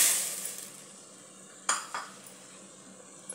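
Vegetables are stirred and sautéed in oil in a pan for dhaba-style masala khichdi, with a soft background sizzle broken by two sharp metallic spoon clinks and light scraping.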